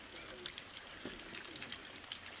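Rainwater pours from a gutter at a house in Bulgaria on a rainy day, a steady faint gushing splash with a voice talking underneath.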